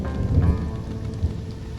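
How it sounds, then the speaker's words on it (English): Steady patter of rain in the video game Stranded: Alien Dawn, with a low rumbling underlay, fairly loud and continuous, with no voices. "Ah, here comes the rain."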